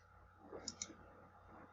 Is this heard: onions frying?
no